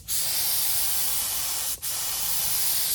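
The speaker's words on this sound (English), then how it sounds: "just give them a quick spray" A spray gun lays paint onto a 1966 Mustang Fastback in one loud, steady hiss lasting about three seconds, with a single brief break near the end as the trigger is released and squeezed again.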